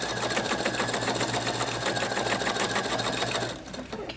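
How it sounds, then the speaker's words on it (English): A sewing machine stitches steadily over thick layers of thread, giving a loud, rapid, even mechanical clatter that slows and stops near the end. "if your machine gets clunking, don't worry about it. You're going over a lot of layers of thread."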